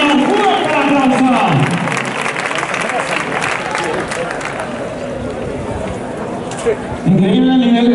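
An audience at a horse competition in Tudela, Navarra applauds loudly and steadily, a dense roar of clapping and crowd noise with a commentator's voice speaking over it.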